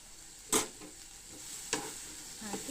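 Chapati noodles with tomato are stirred in a pan over a low continuous sizzle, with two distinct sharp spatula scrapes and a few lighter taps, close and without talk.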